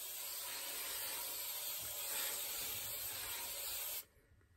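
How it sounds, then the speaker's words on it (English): Tresemme Extra Hold hairspray sprayed onto the top of the hair in one continuous close, steady hiss lasting about four seconds before cutting off, no talk. "I'm gonna take some hairspray. I have this one by Tresemme. It's the Extra Hold hairspray. And I'm just going to spray the top of my hair."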